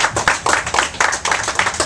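A small group claps at a boxing press conference in a quick burst of uneven, fairly close handclaps that lasts about two seconds.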